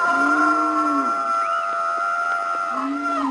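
Cattle in Africa low loudly and close, long drawn-out moos at the start and end of a continuous bellowing drone, with no talk.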